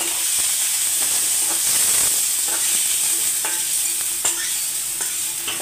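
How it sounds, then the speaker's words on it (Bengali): Cauliflower fries in a wok for a mixed-vegetable dish, a steady loud sizzle and hiss with intermittent scraping stir strokes throughout. "ফুলকপিটা আমি হাতে একটু সময় নিয়ে ভাজবো।"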